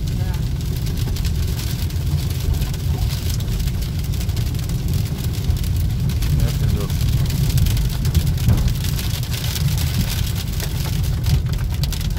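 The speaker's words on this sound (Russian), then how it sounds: "Причем град начал как-то неожиданно" Large hail falling suddenly during an autumn storm in Karelia, a dense continuous patter and drumming on surfaces with a low rumbling undertone, loud and steady throughout.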